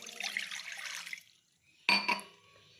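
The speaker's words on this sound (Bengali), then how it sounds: "এখন আমি দিয়ে দিব অল্প জল।" A little water poured into a pan on a lit gas stove while making pickle, a short splashing pour, a pause, then a brief second splash, fairly quiet and close.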